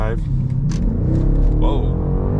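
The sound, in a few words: BMW X5 M50i accelerating in Sport Plus mode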